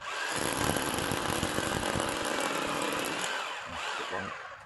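A loud, continuous Ryu RRH 26 rotary hammer drill chiseling concrete roars with a harsh, rattling grind, steady throughout with no talk.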